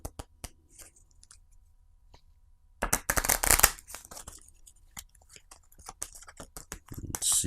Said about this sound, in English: And then I'm going to draw some cards here.